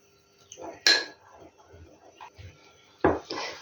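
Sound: stirring flour in a cup with spoon

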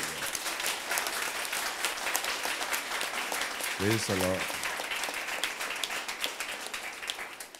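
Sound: audience clapping loudly

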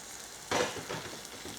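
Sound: green chillies and garlic cooking in a pan

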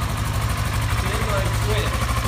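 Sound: 2008 Kawasaki Versys 650 motorcycle engine idling after start

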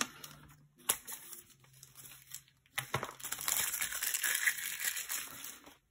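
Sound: cutting out a paper planner page

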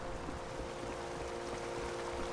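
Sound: waterfall in the land of the Fae, video game

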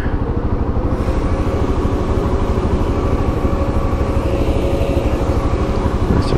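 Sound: road sweeper driving past

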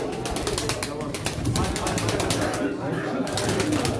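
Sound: pigeons cooing at a pigeon auction

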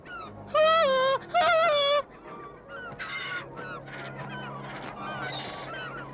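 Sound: seagull squawking in Smurfs cartoon

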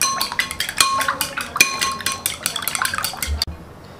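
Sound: stirring seasoned eggs clockwise in a bowl

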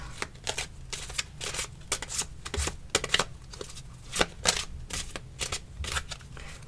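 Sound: shuffling a deck of playing cards

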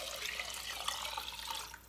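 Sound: water poured into a pot of rice

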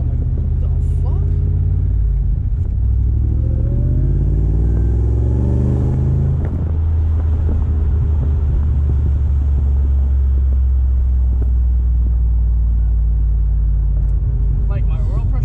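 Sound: supercharged Corvette engine running

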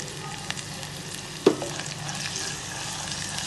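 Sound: frying dried red chillies and crushed garlic

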